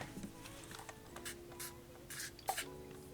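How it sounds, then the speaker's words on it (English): A handheld spray mister puffs water onto mixed media artwork, its nozzle worn so it squirts in one spot rather than misting; a few short, quiet hissy bursts sound close by, with soft handling noises between them. "And I'm gonna spray this with my mister"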